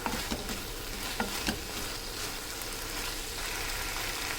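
Tomatoes and onions sauté in a pan for a village-style dry fish curry, giving a dense, continuous sizzle with a few light stirring knocks near the start. No one speaks.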